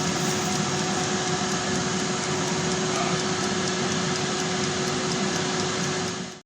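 An air fryer grill runs while preheating before chicken goes in, a constant close whirring drone with a steady fan hum that holds evenly throughout and then cuts off at the very end, with no talking.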